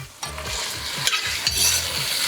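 Cheese-filled chorizo fries in a pan, giving off a steady close sizzle. Repeated scraping of a spatula or spoon stirring breaks through it, and no one speaks.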